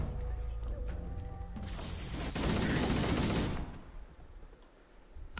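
Pistol gunfire in the video game Halo: Combat Evolved, a dense burst of loud shots and explosive noise amid game sound, swelling in the middle and then fading.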